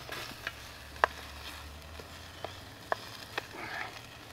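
A stir fry with fish sauce cooking in a Bush Box, giving a faint, soft sizzle under a low hum, broken by a few sharp clicks and taps of stirring, with no one speaking.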